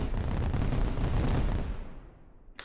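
A fireworks sound effect goes off during a live stream: a dense, booming crackle of bursts that holds steady for about two seconds, then fades away, with a small click at the very end.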